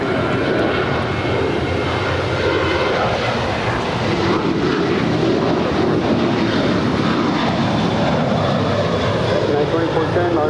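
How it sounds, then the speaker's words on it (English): A Boeing 737-900ER jet airliner takes off from LAX bound for Las Vegas, its engines roaring loud and steady for the whole stretch, with a faint radio voice now and then beneath the din. "1727 off to Las Vegas, an 8-year-old 737-900ER"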